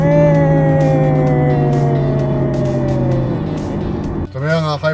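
A 2026 Lexus RZ 550e F Sport electric car plays a synthetic engine note that drops in pitch like a downshift, loud and close inside the cabin, with a voice briefly heard at the end.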